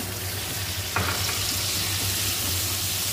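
A little water poured over fried onion and tomato in a pan sets off a sudden louder burst of sizzling over the steady frying hiss, close and continuous, with no voices.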